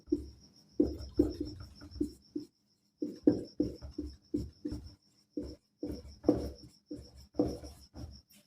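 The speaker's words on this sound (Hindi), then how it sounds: "अब इसको लिखते हैं" Chalk or marker writing on a classroom board during a Hindi physics lesson on light, heard as close, rhythmic bursts of scratchy strokes with brief pauses between words, with no talk over it.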